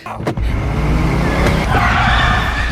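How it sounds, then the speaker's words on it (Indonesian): Volkswagen Beetle drifting, its tires skidding and squealing in a loud, continuous screech over steady engine roar, following a brief thump at the start. "Dengan teknik drifting menggunakan mobil kodok, Tukiem berhasil lolos."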